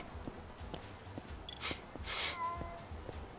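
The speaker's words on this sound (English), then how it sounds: "Oh, I hear the cat. It's a cat." A small cat in the video game Lost Judgment gives a couple of soft meows over faint ambient sound and light footsteps, with brief rustling bursts between calls.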